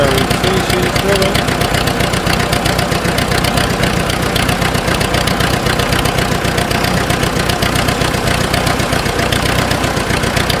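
Kubota B250 tractor engine runs steadily at idle, a loud, continuous diesel chug with a knocking rhythm throughout, close by.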